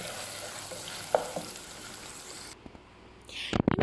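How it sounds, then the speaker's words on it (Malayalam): Chopped green chillies and ginger sauté in a pan with a faint, steady sizzle and a couple of light stirring knocks, then a brief louder scrape and clatter at the end. "ചെറുതാക്കി അരിഞ്ഞതും കൂടി ആഡ് ചെയ്തിട്ട് നന്നായിട്ടൊന്ന് വഴറ്റി കൊടുക്കുക"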